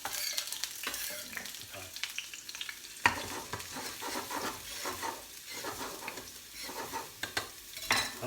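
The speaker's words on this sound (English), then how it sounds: "So let's just get that in the pan. It's nice and hot." Mini spicy bean burgers fry in hot oil in a pan with a steady, close sizzle, broken by scraping and utensil clatter. A voice speaks one brief word.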